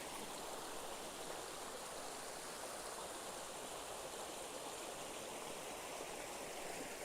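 A woodland stream runs through wet, soggy ground in a steady, continuous rush of flowing water, close and even throughout with no voices.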